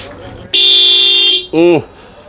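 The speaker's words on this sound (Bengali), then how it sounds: "আমি একটু বাজিয়ে আপনাদেরকে প্রথমে দেখাই যে হর্নটার কি ধরনের সাউন্ড হয়" A loud motorbike horn blares in a long steady honk, then a second short toot with a wavering pitch.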